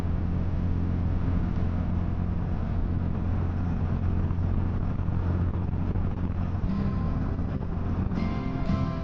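A Royal Enfield Hunter 350 motorcycle cruising at high speed, around 110 km/h, in light traffic, its steady engine drone buried under heavy continuous wind roar across the microphone, with no break in the noise.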